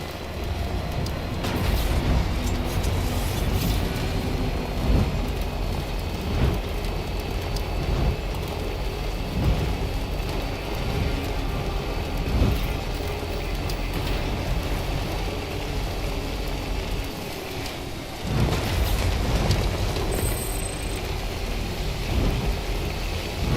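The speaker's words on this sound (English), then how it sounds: "And this timefall is kind of relentless right now." Relentless timefall rain pours steadily in the video game Death Stranding, with rolling rumbles of thunder and heavy gusts beneath it, loud and continuous throughout.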